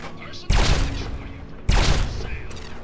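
Two heavy gunshots in Fallout 3, each a loud, close blast with a short decaying tail, about a second apart.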